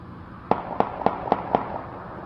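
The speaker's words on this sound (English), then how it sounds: "you're going to hear 5 rounds." Five gunshots picked up by a street gunshot detection system during a homicide, sharp evenly spaced reports about a quarter second apart, moderately distant with a faint echoing tail, no voices.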